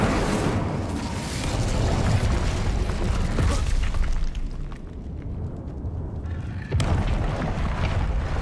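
An Incendio fire spell cast in Hogwarts Legacy, a loud dense whooshing burst that roars continuously, briefly thins, then surges again near the end.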